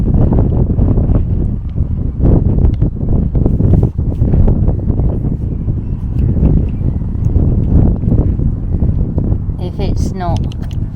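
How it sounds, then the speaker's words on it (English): Steady wind buffets the microphone in a constant low roar while a person talks over it outdoors at a very old Saxon church. "It's a bit windy"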